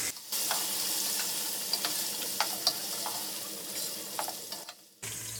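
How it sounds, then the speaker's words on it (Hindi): Chicken frying with onions in a pan for yakhni pulao makes a continuous close sizzle broken by a few sharp pops and stirring scrapes, with a short pause near the end before the sizzle returns. "अब हमने जो चिकन निकाल के यखनी से रखी थी वो ऐड करेंगे। इसको भी हम 3 से 4 मिनट फ्राई करेंगे।"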